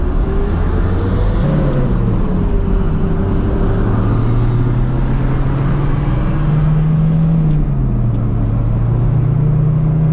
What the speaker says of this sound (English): I'm gonna take it for a quick drive around the block just to see how it feels